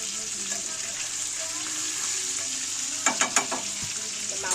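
Rohu fish braising in a pan with eggplant sizzles steadily with a bright hiss, and a quick run of spatula clicks and scrapes comes near the end.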